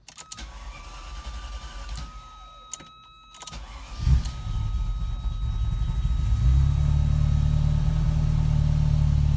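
A Ferrari with a cold start problem, in neutral, has its key turned amid faint clicks. The engine cranks, then catches into a loud, steady low rumble that keeps building nearby.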